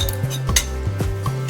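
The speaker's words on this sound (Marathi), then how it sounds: "आता त्यामध्ये आपल्याला 2 सुक्या लाल मिरच्या टाकायच्या आहेत. त्याही यामध्ये छान आपल्याला थोड्याशा अशा परतून घ्यायच्या आहेत." Utensil clinks and scrapes in a pan as two dry red chillies are sautéed and stirred while cooking dhaba-style palak paneer, with several metallic knocks spaced through a steady stir.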